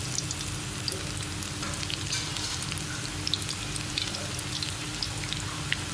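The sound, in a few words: lachha pakoras frying in hot oil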